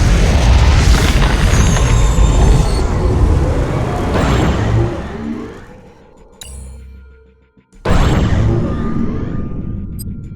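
Ion Cannon strike in the real-time strategy game Command & Conquer 3: heavy booming blasts and crackling rumble, loud and sustained, fading to near silence before a second abrupt, powerful burst of sound.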